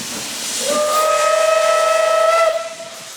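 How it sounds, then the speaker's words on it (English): A loud hiss of escaping steam from an Isle of Man Steam Railway narrow gauge locomotive rises into a sustained whistle-like tone that holds for a couple of seconds, then fades back to hiss. "The pressurised expansion from the steam created pushes the pistons back and forth, propelling the engine forward."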